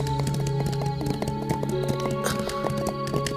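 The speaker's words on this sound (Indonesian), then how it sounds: "Suara derap kaki kuda itu melintas sangat dekat" Horse hoofbeats clopping in a rapid, uneven rhythm close by as a group of riders passes, crisp and distinct with no voices.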